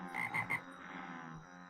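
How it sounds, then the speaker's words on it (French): Frogs in the Minecraft modpack RLCraft give three quick, bright croaks in a row, fairly close, then fade into a soft background hum with no talking. "Il y a les grenouilles qui m'énervent."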